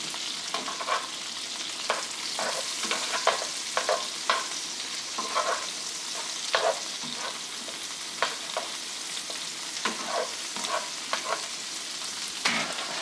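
Fresh garlic and shrimp fry in butter in a pan, giving a steady sizzle broken by frequent clinks and scrapes of stirring.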